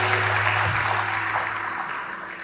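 A church congregation gives a steady round of applause to God during an Indonesian sermon, continuous dense clapping that holds evenly before easing slightly, with a low hum beneath.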